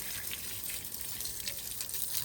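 Water sprays steadily onto a dirty vehicle during washing, a continuous close hiss and gush with no pauses over the short stretch.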